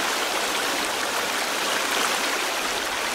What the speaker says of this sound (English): I'm going to see if there is anything behind this waterfall.